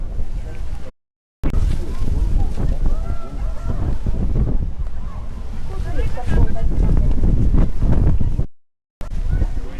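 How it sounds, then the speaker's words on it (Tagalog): Strong wind buffets the microphone on a mountain summit at Fansipan near Sapa, Vietnam, a loud, continuous roaring rumble broken by two brief dropouts, with faint voices underneath. "Wow, it's so windy."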